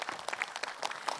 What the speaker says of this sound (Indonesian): Tepuk tangan dong buat Pak Ustadz.